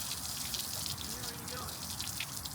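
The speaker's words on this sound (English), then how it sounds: "The river of rusty water." Rusty water drains out of a race truck's engine block, a continuous splashing gush with dripping, close and steady from start to end.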